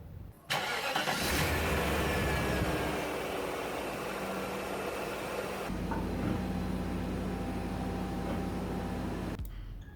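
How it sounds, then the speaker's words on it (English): A BMW E34 with an M60 V8 cranks and fires after an oil pump repair, settling into a steady, loud idle that holds for several seconds before cutting off. "turn the key and check for any leaks"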